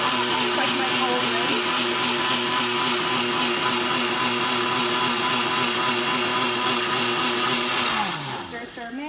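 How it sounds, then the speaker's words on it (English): Nutribullet blender whirring through coffee for a latte, a loud steady motor drone with a high whine that holds for about eight seconds before spinning down at the end. "It's already in the Nutribullet. And I'm just gonna stir it up for a few seconds here."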